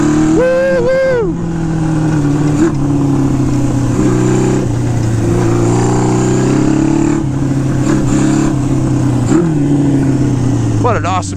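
A carbureted Honda CB550 Four chopper motorcycle revs up and settles repeatedly, its engine note rising and falling loud and close, with a person talking over it.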